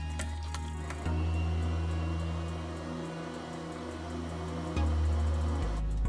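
An electric mixer whirs through carrot cake batter of eggs, vegetable oil, white sugar and vanilla extract, a steady close motor hum whose pitch and loudness jump at two points as the speed changes, with no voices.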